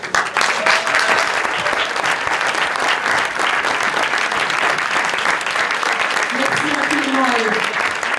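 An audience at a short film ceremony applauds film directors with sustained, steady clapping filling the room, and a few voices rise briefly near the end.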